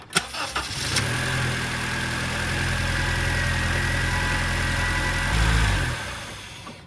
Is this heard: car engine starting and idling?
yes